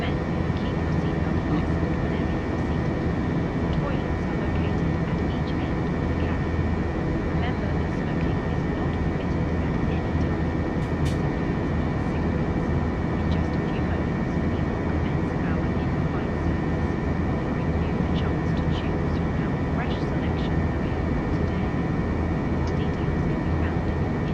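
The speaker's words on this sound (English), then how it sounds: "What do you guys think about those engine sounds?" Fenix A320 jet engines in a flight simulator cruise over the Rockies, a loud, steady droning roar with a constant whine that holds unbroken throughout, with faint talk underneath.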